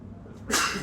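A single sharp sneeze bursts out abruptly after a quiet moment backstage, loud and close, with a breathy noisy tail.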